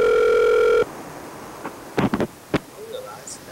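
A telephone dial tone sounds steadily for almost a second while a call is placed to a yellow phone, then cuts off, followed by faint clicks and scattered voices.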